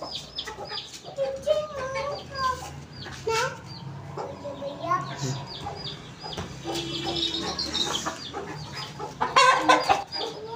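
Black Aseel hens cluck and squawk nearby in a home yard, with repeated short calls and louder bursts near the end, while faint voices murmur in the background.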